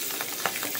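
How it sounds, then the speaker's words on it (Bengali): Pabda fish frying in a little oil in a pan, a soft steady sizzle with a few small crackling pops, quiet and close. "একদম কম তেলেই করছি ভাজাটা।"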